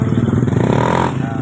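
Motor Star Easy Ride motorcycle engine revving loud and close after a bushing and bearing replacement, a steady throbbing idle with a rough clattering rhythm and no voices.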